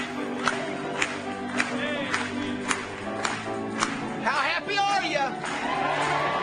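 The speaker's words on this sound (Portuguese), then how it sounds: "Batamos palmas para ele mais uma vez." A church congregation claps steadily in rhythm, with sharp claps about every half second, while voices ring out over a lively crowd throughout.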